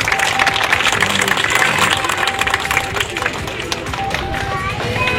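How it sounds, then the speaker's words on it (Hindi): Crowd at a local community event clapping loudly and steadily, a thick wash of hand claps under and between voices, tapering slightly toward the end. "जोरदार तालियां इनके लिए।"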